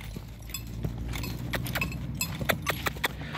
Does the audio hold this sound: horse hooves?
yes